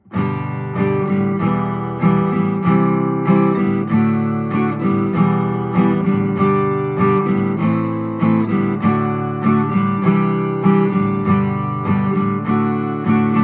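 An acoustic guitar is strummed steadily in a down-down-up rhythm, moving through several chord changes at an even tempo, close and clear.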